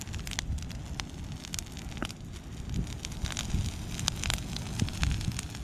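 Outdoor brush pile burning on a windy evening after some snow, with continuous close crackling and popping over a rushing, gusty wind background.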